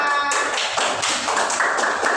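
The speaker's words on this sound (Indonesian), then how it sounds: "Tepuk tangan untuk kelompoknya mereka." Children in a primary school classroom clap together for a classmates' group, a steady dense patter of many small hands lasting the whole moment, fairly close and without talk over it.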